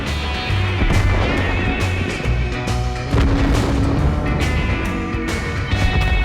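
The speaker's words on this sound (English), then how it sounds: "Allied fire demolishes the revealed enemies." Tank cannon fire in World of Tanks gameplay, heavy booming shots and explosions layered over a continuous rumbling battle din, loud and close, with no voices.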